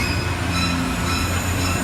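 A studio tour tram at Universal Studios Hollywood gives a steady rail vehicle rumble with a constant drone and faint squealing tones, rolling along continuously at close range.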